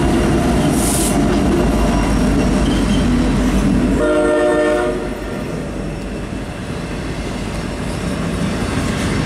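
A train rolls past with a loud, close rumble of wheels, and its horn blasts in a sustained tone midway before the rumble eases slightly.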